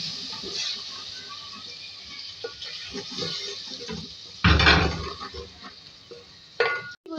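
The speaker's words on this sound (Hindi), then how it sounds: "इसके बाद थोड़ा सा पानी डाल के भूनेंगे।" A little water hits a hot pan of frying red and green chillies and spices. After some soft stirring and clinks, a sudden loud sizzling burst erupts midway, then fades back to quieter scraping.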